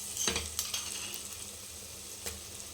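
A tablespoon of freshly pounded ginger garlic paste fries in hot oil for Muslim-style mutton paya, giving a soft, steady sizzle with a couple of light utensil clinks near the start.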